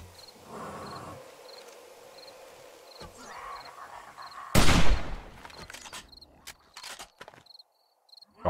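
Gunfire in the survival game 7 Days to Die: a loud, close burst of shots rings out at the midpoint, followed by several sharper scattered cracks over a steady background of chirping crickets.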